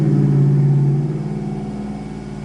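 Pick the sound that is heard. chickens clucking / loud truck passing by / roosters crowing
loud truck passing by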